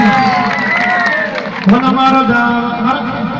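Crowd at a stage show cheering and shouting, with loud overlapping voices and whoops, mixed with music and singing.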